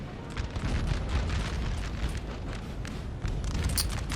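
Artillery fire on French units in a strategy video game, a continuous rumble of distant booms and bursts rolling together, steady and fairly quiet, with a sharper blast near the end.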